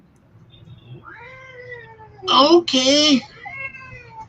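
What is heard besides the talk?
cat meowing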